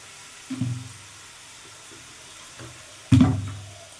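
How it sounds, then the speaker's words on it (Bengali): Water pours in two short splashy bursts into a bowl being rinsed in a home kitchen while cooking catla fish head chorchori, the second burst louder, with quiet pauses between. "বাটিটা ধুয়ে একটু জলটাও দিয়ে দেবো"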